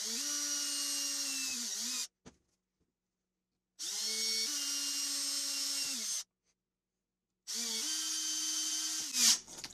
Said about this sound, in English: I'm just going to drill this real quick